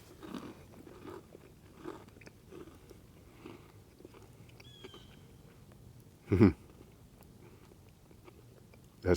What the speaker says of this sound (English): Then it's time to eat.